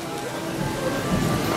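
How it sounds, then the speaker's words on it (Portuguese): Steady rain at Cape Canaveral falls with a dense, even hiss, close by and fairly loud, with a faint low rumble underneath. "A chuva diminuiu"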